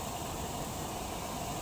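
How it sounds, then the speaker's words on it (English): A constant roaring rush of a hot air balloon burner firing in the video game Ace Attorney Investigations 2, broad and steady throughout with no pauses, heard alone. "This is the sound of a hot air balloon."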